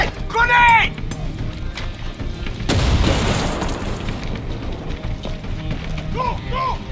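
A grenade explodes in the Far Cry 6 video game with one loud, broad boom a few seconds in, followed by a fading rumble, while combat noise continues and voices shout.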